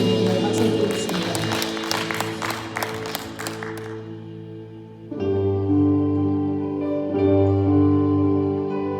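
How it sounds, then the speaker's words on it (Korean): Church congregation applauding at a Sunday worship service, a dense wash of clapping in the first half under sustained music and sung tones, fading out as organ or keyboard chords and singing carry on alone. "박수 드리겠습니다."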